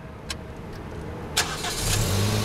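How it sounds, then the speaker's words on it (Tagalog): A car engine turns over and catches during a driving lesson, with a brief starter burst followed by a low, steady idle rumble close by. "Ganda na, makina."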